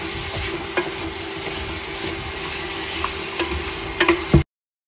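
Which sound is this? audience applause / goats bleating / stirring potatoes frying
stirring potatoes frying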